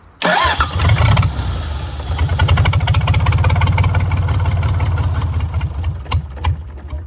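A new boat motor fires up as its starter solenoid is energized, cranking briefly then settling into a loud, steady close idle with a rhythmic low throb.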